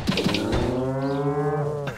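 A cow moos in the video game Deeeer Simulator, one long, loud, drawn-out bellow lasting about two seconds and heard alone.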